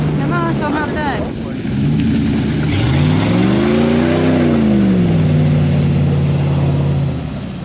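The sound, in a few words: vehicle engine revving at a mud running event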